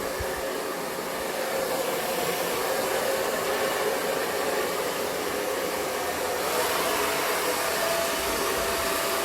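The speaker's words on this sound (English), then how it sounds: "He seems fine with the noise of the hairdryer, so that's good." A hair dryer blows with a steady, loud, whooshing hum for several seconds, unbroken and alone.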